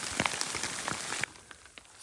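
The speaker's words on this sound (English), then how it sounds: "I've just been getting rained on and then hailed on" Mountain rain on the Alta Via 2 trail, a dense patter of drops striking a nearby surface that suddenly thins to scattered, sharper individual hits, heard close with no talking.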